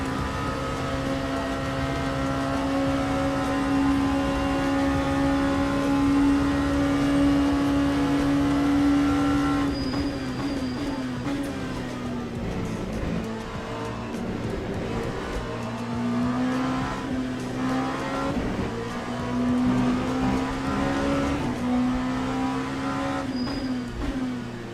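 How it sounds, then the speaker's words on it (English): Race cars in Le Mans Ultimate running close together, a steady loud engine drone with shifting revs and gear changes as the pack holds tight through the lap. "Some nice close driving from the cars in front here."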